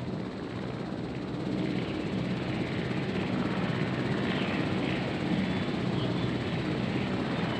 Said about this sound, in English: I wish I could get an upgrade that would speed up these friggin' transport helicopters